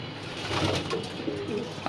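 Racer pigeons kept together in a loft coo steadily at close range, a soft continuous murmur of overlapping calls with no talking.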